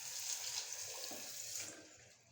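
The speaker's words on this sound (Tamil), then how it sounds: "மீன் உங்குற அளவுக்கு தண்ணி ஊற்றிவிடும்" Water splashes steadily into a pot of fish curry for about two seconds, a continuous hissing pour that fades as it stops.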